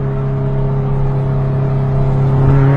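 A car engine in third gear holds a loud, steady, close-up drone that rises slightly toward the end as it revs up into VTEC, with no voices.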